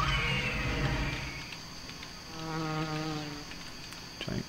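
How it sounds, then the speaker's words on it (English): A giant cricket creature in a video game gives a buzzing, insect-like chirp with a pulsing tonal trill, close and steady against a continuous high ambient hum. "It's a giant cricket."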